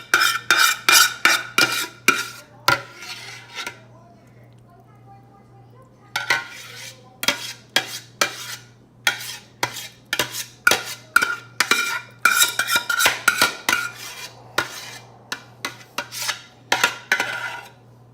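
Spoon or spatula scraping macaroni and cheese into metal pans, with repeated rhythmic metallic scrapes and clinks in bursts and short pauses, close by, with no talk.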